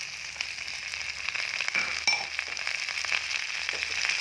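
Chopped capsicum dropped into fried onion in a hot pan, sizzling softly and steadily with light crackles and a few stirring knocks, close and unaccompanied by speech.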